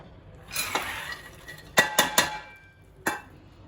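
A pressure cooker set on a flame for overnight-soaked black gram clanks and rattles, a few sharp metallic knocks in a quick cluster followed by one more, close and fairly loud in a quiet room.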